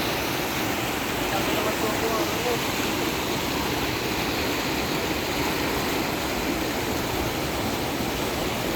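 Strong current of water rushing at Rawdon Lake, a dense, steady broadband roar like a stream or small falls, loud and continuous throughout with no speech.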